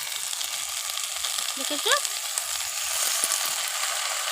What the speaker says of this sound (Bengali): এবারে পুঁই শাকটাও আমি একটু ভালো করে পেঁয়াজের সাথে নেড়ে নেব, ভাজা ভাজা হবে।